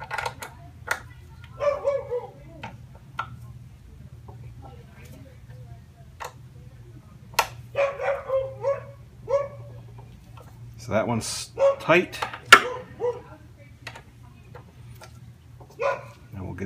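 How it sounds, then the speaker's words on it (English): A dog barks in bursts at a middle distance while someone works on a Yamaha FJR1300 motorcycle's wheels and brakes. A low steady hum runs underneath, and someone speaks briefly between the barks. "Apologize for the dog barking."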